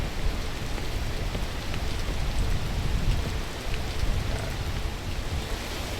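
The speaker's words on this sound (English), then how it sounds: "Look for the rain to stop." Steady rain pours down in the video game Peak, a dense, even hiss that holds at constant loudness throughout with no voices.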